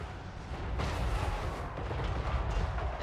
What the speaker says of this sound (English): the cannons have been getting in on it too, I guess